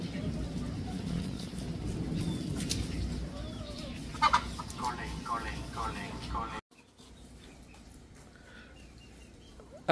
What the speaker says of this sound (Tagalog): Ito yung breeder namin na tandang dito guys.